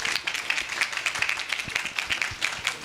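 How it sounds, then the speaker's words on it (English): Applause from an audience at a talk on cybersecurity concerns of small businesses: steady, moderately loud clapping from many hands, fairly close, with no talking over it. "let's applaud"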